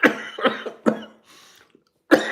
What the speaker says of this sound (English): Just thinking about it makes me cough.